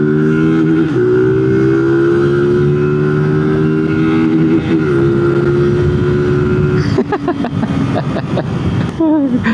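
An Aveta Marvel 150 fun bike motorcycle drones at a steady, loud engine pitch while riding, then revs and sputters with rising, choppy bursts toward the end, close to the microphone with wind buffeting.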